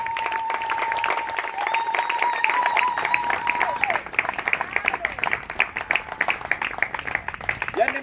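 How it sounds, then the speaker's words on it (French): A church congregation claps in a broad, sustained wave of applause, with a voice briefly audible over it at first. "On acclame pour la parole de l'Éternel."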